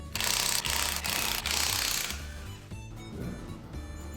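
Ratchet wrench with an 18 mm socket loosening the wheel bolts on a Caterham Super Seven, a loud close series of rapid clicking bursts that fades to lighter rattling.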